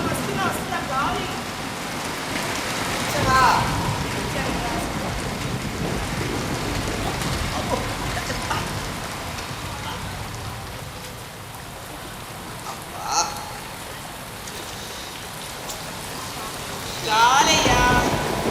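Steady rain hiss during a stage play performance, continuous and moderately loud, with a few brief louder bursts and faint voices of actors underneath.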